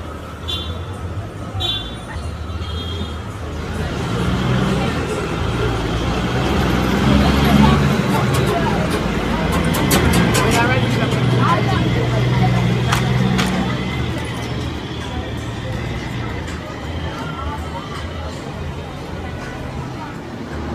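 Heavy cab-over big rig trucks moving through busy Jamaican road traffic, a steady loud engine rumble and road noise throughout with passing vehicles and background voices.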